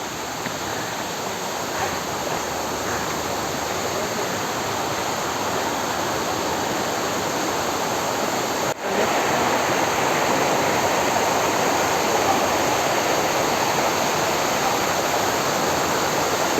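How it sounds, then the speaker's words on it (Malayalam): Water plunges from the top of Thoomanam Para waterfall, a constant loud roaring rush heard close by, unbroken except for a brief dip partway through, with no voices. "അപ്പോൾ ഇവിടെ നിന്ന് വെള്ളം പോയി ചാടുന്നതിൻ്റെ ഒരു കാണിച്ചു തരാം."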